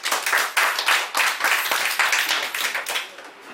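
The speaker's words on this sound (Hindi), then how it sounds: "एक जोरदार ताली दोस्तों इस प्रोडक्ट के लिए।" An audience at a herbal products boot camp in Manali claps loudly for a product, rhythmic bursts of many hands in fast uneven pulses that taper off near the end.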